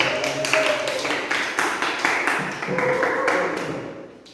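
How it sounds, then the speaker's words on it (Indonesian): A classroom of students claps for a group, a loose, uneven burst of hand claps at close range that rises and tapers over a few seconds, with faint voices underneath. "Tepuk tangan untuk kelompok 4."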